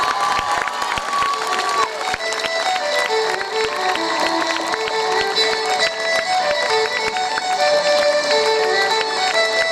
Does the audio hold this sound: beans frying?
no